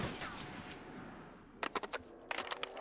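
A three-round burst weapon fires in Black Ops 3 Zombies, two quick clusters of sharp cracking shots in the latter half after a stretch of quiet background, fairly near and distinct.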